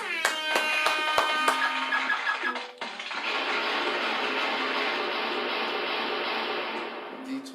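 A few sharp claps ring out at first, then a small crowd breaks into sustained, even applause for D12 that continues steadily before easing off at the end.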